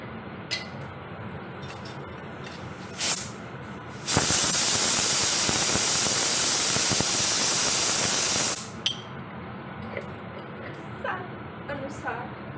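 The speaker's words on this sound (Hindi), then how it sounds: "पर कुकर सीटी तो मारेगा" A kitchen pressure cooker whistle blasts a loud, steady high-pitched hiss of escaping steam for about four seconds, framed by quieter household clatter and someone talking before and after.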